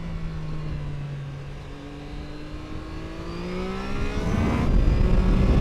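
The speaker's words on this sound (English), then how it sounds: "The blipper works way better when you're high in the RPMs." A Triumph Tiger Sport 660 motorcycle engine climbs steadily through its revs under load, then a quickshifter blip adds a brief burst of rising roar, loud and close, with no talk.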